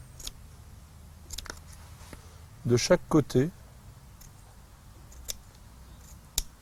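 Scissors snip horizontally through the fabric of a garden planter for a small balcony vertical garden: a quick cluster of three or four crisp cuts near the middle, with scattered light ticks around them and a person speaking French.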